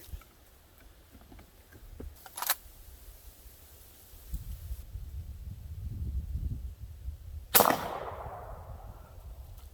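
A Winchester 1892 lever-action rifle firing a .45 Colt round at a distant target outdoors, one sharp loud crack with a trailing echo that fades over a couple of seconds, preceded by a fainter click.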